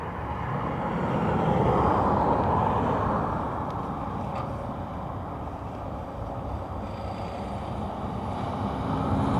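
An Airbus A320neo from Heathrow rumbles at an airport, a broad, steady jet roar that swells slightly early on and then holds, distant and continuous with no voices.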